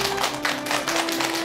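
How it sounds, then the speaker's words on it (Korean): Studio audience on a Korean health talk show welcomes a guest with brisk, dense clapping that holds steady over a faint steady tone. "큰 박수 부탁드립니다."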